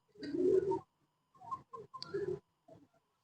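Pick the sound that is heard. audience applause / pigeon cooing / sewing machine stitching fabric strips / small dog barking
pigeon cooing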